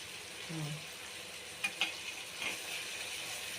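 Ginger garlic paste frying in hot oil for a fish curry, a continuous close sizzle with a few sharp spoon clinks against the pan partway through, no talking.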